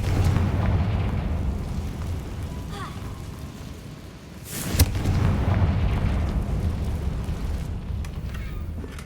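A Confringo fire spell explodes in the video game Hogwarts Legacy, a sharp blast near the midpoint over a constant loud rumbling game background, with no voices.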